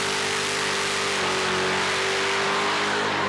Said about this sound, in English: Now check out Tristan Techie's HK Monaro run. It's a 383 Chev with supercharger